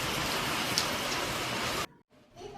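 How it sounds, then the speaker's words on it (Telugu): Heavy rain pours down in a dense, steady hiss for most of the stretch, then cuts off abruptly into near silence before a faint wash of sound returns. "వర్షం అయితే చాలా గట్టిగా వచ్చింది."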